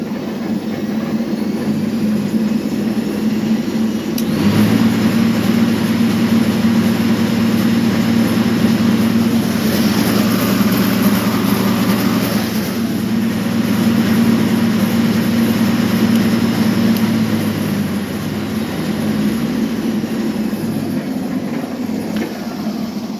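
An electric motor on a Ms Cub tractor spins up, its steady low hum and whine rising and holding loud and close for most of the stretch before dropping away, with no talk.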